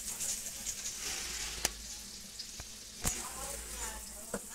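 Meat tipped into spiced masala frying in a pan over a village wood fire, a steady close sizzle and hiss with a few sharp clatters of a spoon or pan.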